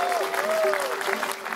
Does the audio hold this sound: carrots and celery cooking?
no